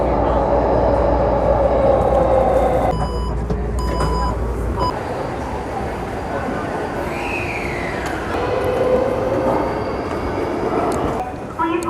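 Steady rumble of a train in motion, wheels and carriage noise with a rising squeal and some mechanical tones, fairly loud throughout.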